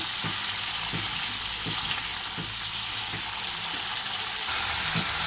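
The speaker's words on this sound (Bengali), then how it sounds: "টমেটোটাও দিয়ে দিই। এটাও একটু ভেজে নেব।" Tomato and mixed vegetables frying in a pan, a steady hiss of sizzling oil with evenly spaced stirring strokes scraping the pan roughly every second, close by with no voices.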